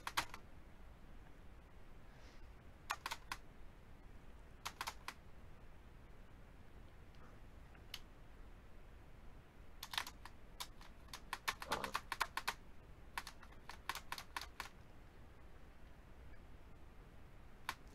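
Bursts of rapid clicking on a computer keyboard come in scattered clusters, with a dense flurry near the middle, close and fairly quiet over a soft background hiss, with no voices.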